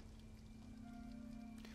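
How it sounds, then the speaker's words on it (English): Rain falling in the sewers of the Spider-Man PS4 video game, a steady close patter over a constant low drone, with no talking. "right now it's raining all over the place in these"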